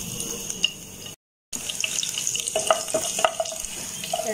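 Finely chopped garlic drops into hot oil in a pan and sizzles steadily, with light stirring and clinking in a home kitchen and a short break of silence partway through.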